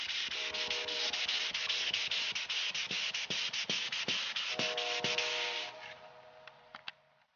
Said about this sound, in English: you can just get you some sandpaper and do it by hand